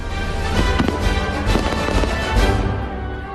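A fireworks display at nightfall with a crowd gathered, rendered as a dense run of crackling bursts and booms close together, loud and fairly continuous with no voices standing out.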